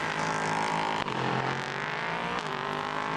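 A group of four LMP3 prototype race cars at Monza roar past in a tight train, engines droning loud and continuous with brief gear-shift dips and a sharp pass near the start.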